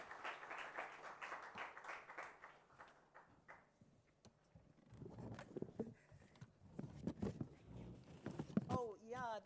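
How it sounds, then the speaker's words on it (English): Scattered applause and clapping break out under a murmuring crowd, with voices talking over it, fairly faint and uneven. "please give a round of applause to my panelists"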